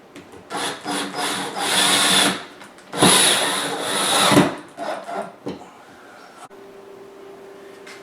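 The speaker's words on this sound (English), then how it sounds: "I'm going to drill some pilot holes, and then I'm going to put some of these drywall screws or multi-purpose screws into the to the beam here" A power drill bores pilot holes and drives drywall screws into a wooden ceiling beam and furring strip, two loud, close bursts of whirring with grinding bite, followed by quieter handling noises.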